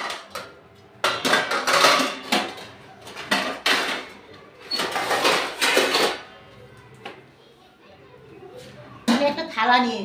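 A plate is pulled out in a home kitchen, with repeated loud clatters of metal dishes and utensils in bursts, while voices talk nearby.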